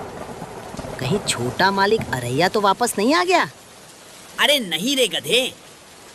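Steady rain falls outside in an animated Hindi cartoon, a soft continuous hiss forming the background bed beneath two voices talking close by.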